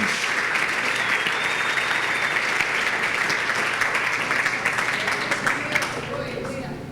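Steady, dense applause from a congregation at a church service fills the whole stretch, loud and continuous with a slight fade at the end.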